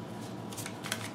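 Cards from a Pathfinder Adventure Card Game deck riffle and slide together in a brief, close, soft shuffle, with no voices.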